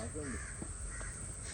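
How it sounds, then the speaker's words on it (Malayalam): A couple of crow caws sound under ongoing talk, against a steady hiss of background noise. "കാക്കയുടെ ശബ്ദം ഇപ്പൊ കേൾക്കുന്നുണ്ട്"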